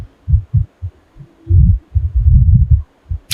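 Heartbeat sound effect: steady, deep, muffled thumps in a regular double-beat rhythm over a faint low hum, close and alone.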